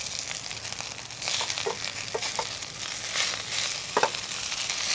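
Gongura leaves fry in a pan for Andhra-style gongura chutney, giving a soft continuous sizzle with a few scattered crackles and light stirring scrapes, close but fairly quiet.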